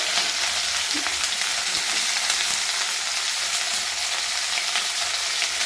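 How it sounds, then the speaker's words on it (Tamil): Onions frying in hot oil for vendakkai kulambu, a loud, dense, unbroken sizzle that holds steady throughout, close up with a few faint stirring touches. "எண்ணெய் சூடாக இருக்கனால வெங்காயம் மேலே தெரிக்கிறதுக்கு சான்ஸ் இருக்குது"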